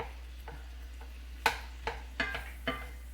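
Meat browning in a pan: a faint, low sizzle broken by a few sharp scraping clicks of stirring, spaced about half a second apart.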